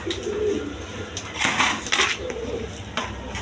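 Caged pigeons at a market stall coo in low, rolling calls, with brief clatters and knocks breaking in partway through; moderately loud and close.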